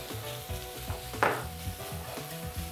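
Onions go into a hot pan with dried onion and dried shrimp for salt yakisoba, giving a steady close sizzle and frying hiss with light stirring scrapes and a sharper burst partway through.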